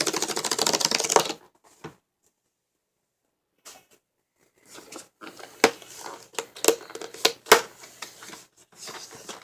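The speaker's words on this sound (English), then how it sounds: "So let's go ahead and rip this open." Cardboard packaging for a Samsung Galaxy J3 Emerge phone is torn and crinkled open up close, a dense burst of rough ripping at first, then after a pause a run of scattered crackles, snaps and rustles.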